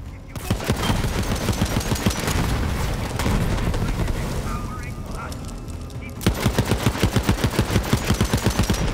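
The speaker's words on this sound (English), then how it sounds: "Oh, grenades." Grenade blasts and rapid gunfire from the Borderlands 3 video game, a dense stream of loud shots and bursts running throughout, with a sharper, steady rattle of automatic fire in the last few seconds and a voice talking over the action.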